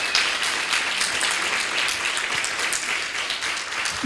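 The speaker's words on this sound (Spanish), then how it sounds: "Den un aplauso al Señor." A church congregation at a Spanish-language sermon applauds, a continuous crowd of clapping hands holding at an even, moderate level throughout, somewhat distant, with no clear speech.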